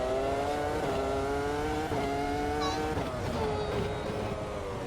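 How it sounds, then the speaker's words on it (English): A high-revving V10 Formula One engine in the racing game Automobilista 2 screams through its gears, pitch climbing and dropping with each shift, loud and continuous without any talking. "That screaming V10."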